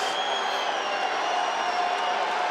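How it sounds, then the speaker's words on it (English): Arena crowd at a wrestling match roaring steadily at high volume, a continuous wall of cheering and shouting from many voices with no pauses. "And this crowd is letting Aitmukhan hear it."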